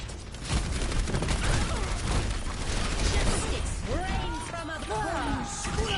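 A dense barrage of gunfire and crashing impacts erupts in an Overwatch match, rapid overlapping shots and explosions with whooshing game effects, under an excited commentator's voice.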